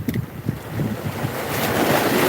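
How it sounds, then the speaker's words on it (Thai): Strong ocean waves surge and wash steadily at Hat Yin Yom beach during shell hunting. The crashing builds slightly over the clip, mixed with gusty wind buffeting the microphone. "คลื่นเริ่มแรงแล้วครับท่านผู้ชมนะ"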